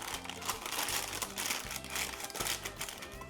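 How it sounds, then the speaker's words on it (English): Squares of parchment paper crinkle as they are pressed into muffin tins in a kitchen, a soft, close, irregular rustling and crackling heard alone. "I've taken some parchment paper, cut it into little squares that will go down into my muffin tins"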